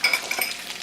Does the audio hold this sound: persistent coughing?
no